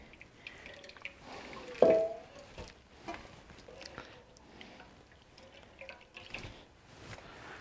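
Water drips and trickles from a handful of squeezed grated turnip, with scattered small splashes and one louder splatter near the start, heard close up with no talking.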